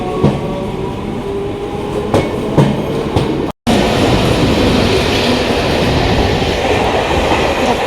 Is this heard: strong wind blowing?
no